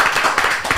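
A few people clap in celebration at 100 million appointments booked, a short burst of quick, close handclaps with uneven rhythm.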